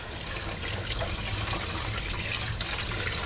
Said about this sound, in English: And then I rinse the sieve off